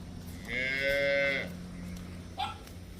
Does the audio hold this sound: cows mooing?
yes